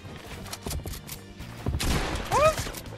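Gunfire in Fortnite, a scattered series of sharp shots and rattling bursts under brief talk, growing denser and louder toward the end.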